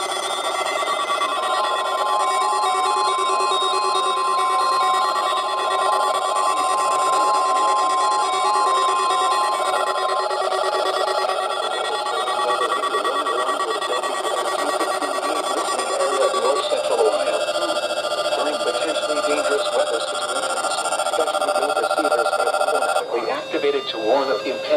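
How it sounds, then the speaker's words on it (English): A National Weather Service weather radio warning alarm test tone sounds as a steady, piercing electronic tone that holds unbroken for over twenty seconds before cutting off abruptly. "this is a test of the National Weather Service weather radio warning alarm"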